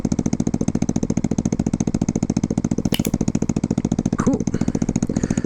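A small 49cc scooter engine idles close by with a steady, rapid putter that runs the whole time, and a voice speaks briefly over it near the end.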